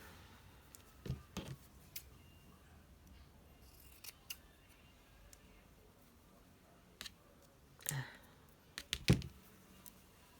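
Scissors snipping silk fabric pieces for a junk journal; scattered short crisp cuts in small clusters, several close together near the end, quiet and near with low background between.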